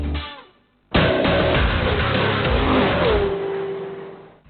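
A BMW X1 facelift car engine starts up after a brief quiet lull, then holds a loud, rumbling drone with a rising rev before easing down toward the end, heard close and alone.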